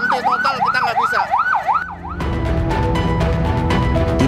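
Loud ambulance siren in a total traffic jam near Tanjung Priok, wailing in rapid rising-and-falling sweeps before switching to a denser, continuous yelp over heavy road noise.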